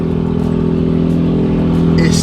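A car that has sat unstarted for about two months idles and revs loudly right at the microphone, with a continuous rough engine drone and a brief rise in pitch near the end.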